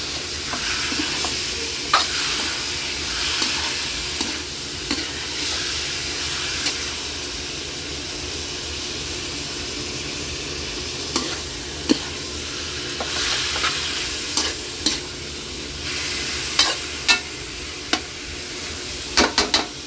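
Pork dropped into a pan with onion and garlic fries in a loud, continuous sizzle, with occasional sharp pops and utensil scrapes over the steady hiss.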